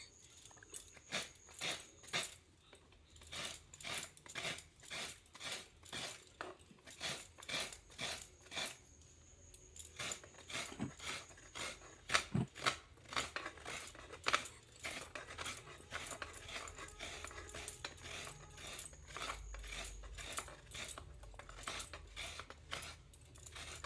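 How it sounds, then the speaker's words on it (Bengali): Fresh coconut being grated by hand, the white flesh scraped off in steady rhythmic rasping strokes, close and fairly quiet, with short pauses between bursts of scraping. "ভালো করে একটু নারকেলটা আমি কুড়ে নিয়ে"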